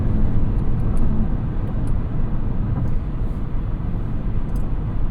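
Inside a 2025 Cadillac Escalade Platinum with a 10-speed automatic, a loud, steady low rumble of engine and road noise builds as the SUV accelerates, filling the cabin without a break.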